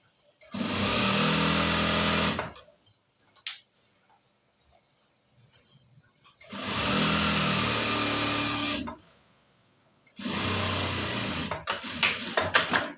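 Sewing machine stitching a readymade top, running in three long bursts of steady whirring with short pauses between, close and fairly loud.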